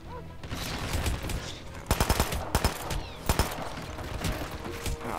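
Gunshots in the video game Hitman: Absolution, a burst of loud sharp cracks in quick succession mid-clip followed by a few more isolated shots, over a steady game background hum.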